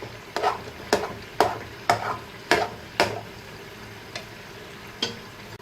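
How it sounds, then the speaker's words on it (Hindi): A spoon scrapes and stirs semolina halwa roasting in a pan, making about eight distinct scraping strokes at a steady rhythm, loud and close, with a soft frying sizzle underneath. "आपने चम्मच मसलसल हिलाते रहना।"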